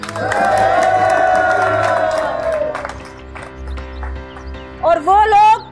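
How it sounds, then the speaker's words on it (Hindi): Audience at a Pakistani film event cheering and applauding, a loud burst of crowd noise and whoops for a few seconds that fades out, followed by people talking. "तालियां।"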